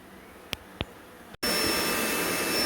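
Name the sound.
bee vacuum running during a beehive relocation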